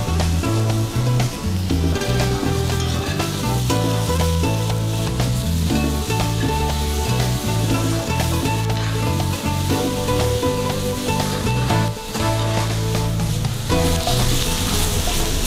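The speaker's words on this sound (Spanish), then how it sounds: "Ahora sí le voy a agregar el puerro y la cebolla." Leek and onion fry in a pan alongside browned potatoes, seasoned with salt and pepper, producing a steady, loud sizzle throughout with gentle stirring noises and music playing underneath.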